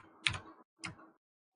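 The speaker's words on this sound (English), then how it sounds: "guys in those loud ass keyboards" Loud computer keyboard keystrokes, three sharp clicks spaced unevenly over under two seconds, close and alone with no voices.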